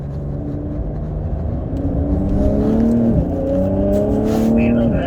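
A Porsche engine revving as the throttle is rolled on around a cone-marked driving course, a rising, strong whine that climbs in pitch and steps up through gears, with a voice talking alongside.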